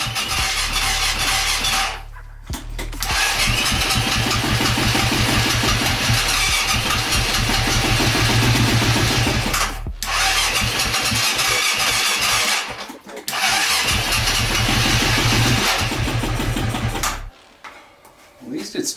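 A KTM 250 dirt bike engine cranks loud and close in long, sputtering bursts as it tries to start, broken by brief pauses, with a voice speaking over parts of it.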